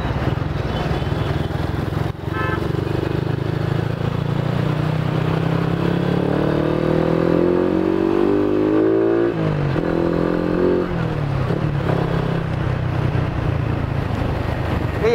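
A motorcycle exhaust drones steadily while riding, the engine note rising as it accelerates, then dipping and picking up again, a continuous close rumble with no talk.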